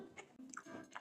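A crunchy battered onion ring with harissa mayo is bitten and chewed close up, giving a few quick, crisp crunches over about a second, fairly quiet.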